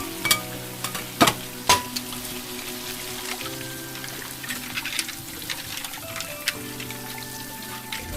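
Food cooking in a pan, a steady low sizzle with scattered clinks and sharp utensil knocks near the start, close and fairly quiet, with no speech.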